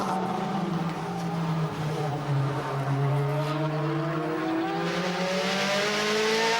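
DTM touring race cars, including Mercedes C-Class machines on slick tyres, roar past on a wet, slippery circuit during the 2008 season, engines howling and shifting pitch as they accelerate, loud and continuous without talk.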